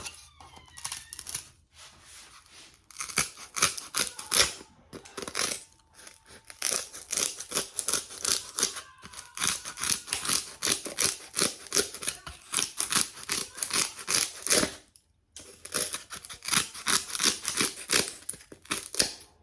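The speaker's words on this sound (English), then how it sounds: "This piece is hard, so you really just cut the hard piece." Scissors cutting a stiff piece of material to fit inside a can for a money bouquet, a long run of rapid, close crunching snips with a few brief pauses.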